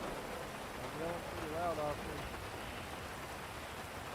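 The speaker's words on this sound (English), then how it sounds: "Yeah, it's not so much about Marco, it's about the rain." Steady, dense rain hiss fills the whole stretch, with a voice briefly heard faintly underneath.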